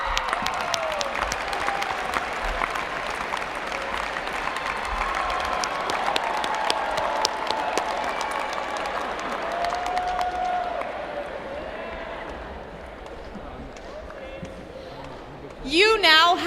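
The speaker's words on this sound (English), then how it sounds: "Let's give a big round of applause to Riley Kalb" A big crowd at a university new student convocation claps and cheers for a student leader, loud and steady at first, then thinning and fading before a brief burst of sound at the end.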